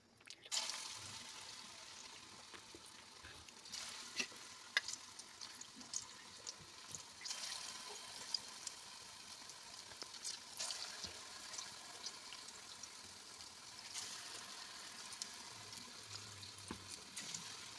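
Jackfruit paste mixture with cardamom powder cooking slowly in a pan over a low flame, giving a steady soft sizzle and bubbling hiss throughout, quiet and close, with occasional small clinks.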